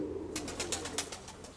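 A young pigeon gives a run of rapid, thin squeaks in quick succession, fairly close and moderately quiet, following a short stretch of low background noise.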